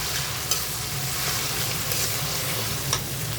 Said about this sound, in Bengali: এখানে আমি দিয়ে দেবো পেঁয়াজ বাটা, রসুন বাটা একসাথে মিক্স করে বেটে রাখলাম। একটু ভাজা ভাজা করে নেব।